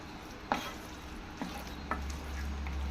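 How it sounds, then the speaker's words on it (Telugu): Curd being stirred into brinjal chutney in a pan, a few distinct scraping spoon strokes over a faint low hum, close and fairly quiet. "పెరుగు వేసుకొని కలుపుకోవచ్చు"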